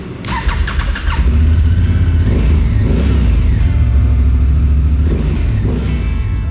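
The new Garuda motorbike pulls away on an open road, its engine revving up through several rising gear pulls, loud and close, with a steady rumble between surges.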